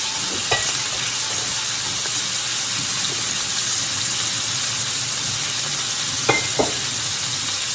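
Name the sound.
beef roast sizzling in pan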